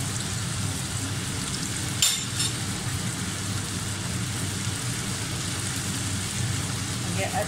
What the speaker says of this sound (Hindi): अब हम ये खड़े मसाले को अच्छे से भून लेंगे